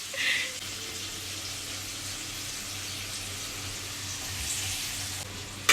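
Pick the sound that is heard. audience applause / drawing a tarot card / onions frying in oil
onions frying in oil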